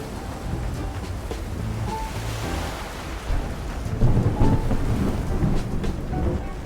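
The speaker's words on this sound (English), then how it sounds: "I can't calm stormy waves right now" Stormy sea waves and rumbling thunder in the video game Love and DeepSpace, a continuous dense roar of surf and rain with a louder surge of thunder partway through.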